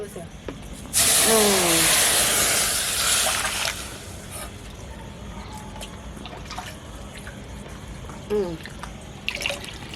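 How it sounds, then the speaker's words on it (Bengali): Water is poured from a measuring bowl into a cooking pot for boiling rice flour, a loud splashing hiss for about three seconds, followed by quieter kitchen handling and a faint later trickle. "আমি এখন চালের গুঁড়ি সিদ্ধ করব জল দেব মেপে দু বাটি"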